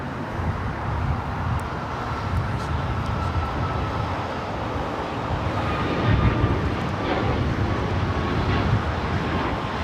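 A Cathay Pacific airliner taking off from runway 25 right at LAX makes a steady, broad roar that holds for about ten seconds and swells slightly near the end, with no voices.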